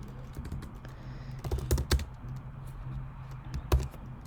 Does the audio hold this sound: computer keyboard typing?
yes